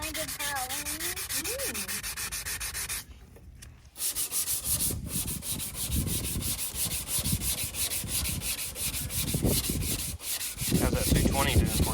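Hand sanding with 220 grit paper strips spray paint off a Don Prudhomme funny car body, a run of close, rough rhythmic scrubbing strokes broken by a brief pause partway through.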